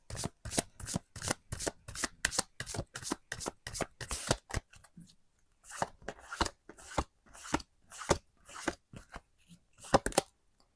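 Lenormand cards are shuffled for a tarot reading in a brisk run of close, crisp riffling snaps, about two dozen bursts with a short pause midway.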